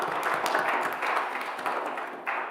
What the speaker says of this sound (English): And a huge round of applause for yourselves for coming out.